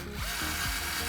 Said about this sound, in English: Having a good screwdriver does make this handy.